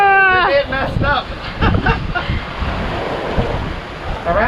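Waves slap and rush against a sailboat's hull in rough, choppy seas off the tip of La Palma, with steady strong wind buffeting the microphone, and voices talking briefly at the start and end.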